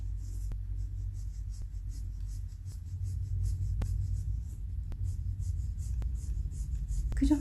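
Soft pencil shading on paper during a drawing lesson on controlling tonal value, a steady faint scratching with periodic light taps, over a constant low hum.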